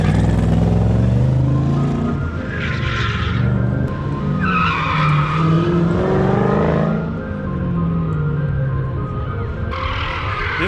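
An electric car driven hard at a Wings and Wheels show, its tires skidding and squealing in repeated bursts over a steady, loud rumble of wind and road noise.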